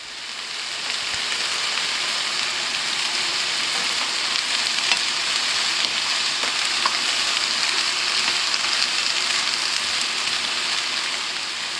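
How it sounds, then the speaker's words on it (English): Carrots and courgettes fry steadily in a pan for a Chinese chicken and mushroom curry, giving a dense, even sizzle that carries throughout with no one speaking. "all the carrots and the courgettes, and they're going to fry for about"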